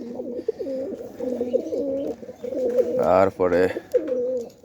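Domestic pigeons coo in a series of soft, throaty calls, with a louder pair of rising coos near the end, as someone speaks over them at close range.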